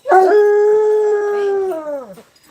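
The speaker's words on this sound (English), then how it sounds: "their howls are so loud." A husky dog lets out one loud, close, sustained howl that holds a steady pitch and then slides downward as it fades out, heard alone without talk.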